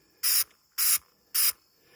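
Three short, even bursts of aerosol waterproofing spray hit a laid-out ALICE pack in a barn, each about a fifth of a second long with brief pauses between them, close and fairly loud, with no talking.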